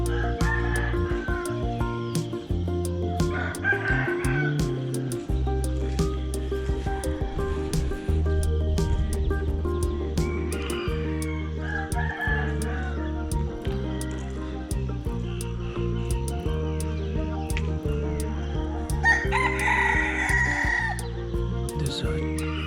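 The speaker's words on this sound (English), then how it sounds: "There's a rooster crowing," A rooster crows several times in a Thai village, the calls rising at intervals over constant hum and clatter of nearby activity, moderately loud and somewhat distant.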